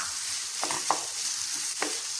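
Ground chicken and cut vegetables stir-fry in a pan, giving a constant close sizzle broken by three or four short scraping strokes of a spoon.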